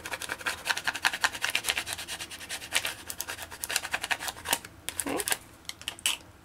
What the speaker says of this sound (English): I'll just take my scraper here,